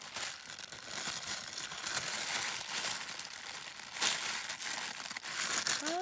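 Wrapping paper on a small parcel crinkling and crumpling as it is unwrapped by hand, close and fairly soft, in irregular rustling bursts with no talk.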